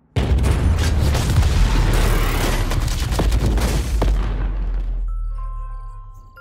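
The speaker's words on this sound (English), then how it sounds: "The explosions are in 3D!" Explosions from a robot combat fighter movie hit as a dense, loud barrage of booms and gunfire-like blasts that rumble on for about five seconds, then fall away quickly into a quiet tail.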